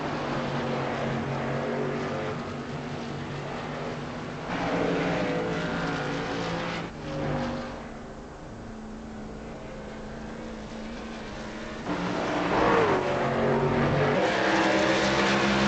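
Racing trucks roaring around Bristol Motor Speedway in iRacing, a steady loud engine drone that swells as cars pass close and dips between, continuing throughout without speech.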